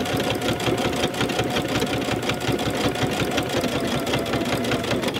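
A Baby Lock sewing machine with a digital dual feed walking foot stitches straight down quilt binding, humming loud and close in a fast, even, continuous rhythm.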